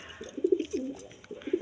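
Pigeons in a breeder's loft coo softly nearby, a few low, rolling calls in two short bursts with quiet gaps between.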